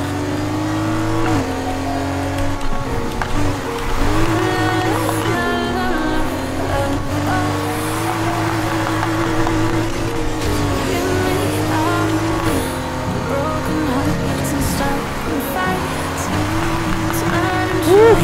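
A Porsche 911 RSR races in Need for Speed Heat, its engine roaring and revving continuously with rising and falling pitch through gear shifts, loud and close throughout.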